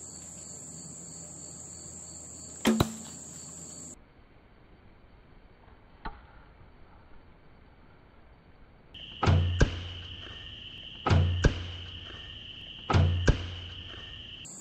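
Longbow arrows loosed at a bottle cap resting on an arrow nock outdoors: several sharp thunks, one early and three spaced evenly later, each with a quick decaying snap, over a steady insect chirr.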